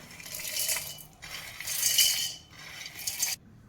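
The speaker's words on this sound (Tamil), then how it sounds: "அதை நான் வந்து மிக்சி ஜாரில் போட போகிறேன்" Roasted groundnuts poured into a steel mixer jar make a light, gritty rattle in about three short bursts, close and fairly quiet, ending abruptly.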